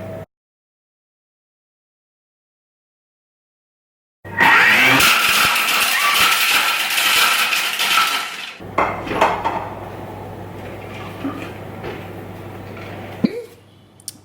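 A Thermomix kitchen machine whisks egg whites, starting after several seconds of silence with a loud, dense whirring roar and clattering. It drops to a steadier, quieter hum for the final stretch and is then cut off.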